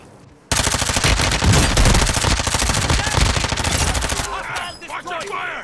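Sustained rapid automatic gunfire in a first-person shooter game, a long loud continuous burst that fades near the end as voices talk over it.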